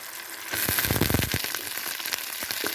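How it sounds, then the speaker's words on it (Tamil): Banana flower sautéing in a pan with onion and tomato, a steady close sizzle with irregular clatters and stirring bursts, no talk. "வெங்காயம் தக்காளி கொஞ்சம் வதங்கிருச்சு இப்போ நம்ம இந்த ஸ்டேஜில் நம்ம வாழைப்பூவை சேர்ப்போம்"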